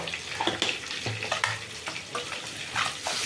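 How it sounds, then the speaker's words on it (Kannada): Masala of chilli powder and garam masala sizzles in oil in a pan on low heat for mushroom egg biryani, with soft steady frying broken by spoon-stirring scrapes, close and fairly quiet, no talking. "ಸಿಮ್ಮಲ್ಲಿ ಇಟ್ಕೊಂಡು ಈ ಥರ ಹುರ್ಕೊಳ್ಳಿ, ಇಲ್ಲಾಂದರೆ ಮಸಾಲೆ ಎಲ್ಲ ಸೀದೋಗ್ಬಿಡುತ್ತೆ"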